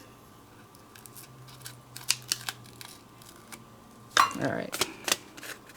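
Small scissors snip away stray paper edges on a filigree booklet, with a run of faint quick cuts followed by a louder rustling cut; a voice speaks briefly.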